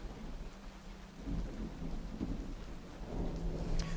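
Steady heavy rain hisses under low rolling thunder that swells and rumbles throughout, close and full, with no voices.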